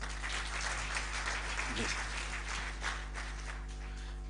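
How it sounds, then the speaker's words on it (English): An audience at a tourism standards panel in Bulawayo, Zimbabwe, applauds steadily, a dense wash of clapping from start to finish with a faint voice briefly underneath. "I think this panel deserves a round of applause."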